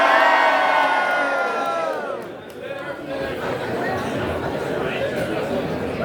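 A crowd at a TT wins celebration in Ballymoney lets out a loud cheer that fades into chatter and murmuring, with voices talking over it.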